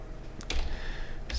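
Computer keyboard typing a terminal command on Debian 13 Trixie: a few close, quick key clicks in an irregular patter over a faint steady hum, no voices.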